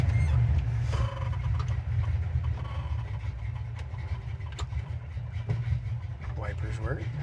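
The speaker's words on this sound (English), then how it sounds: "Revving it up." A 1968 Chevrolet Chevelle V8 engine rumbles steadily with a deep low throb, rising in brief revs, close by, with occasional faint voices in the background.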